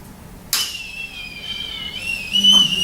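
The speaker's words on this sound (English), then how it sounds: "It's whistling," A sudden hiss opens into a high, wavering whistle that keeps sounding steadily, rising a little near the end, from a closed container of liquid nitrogen.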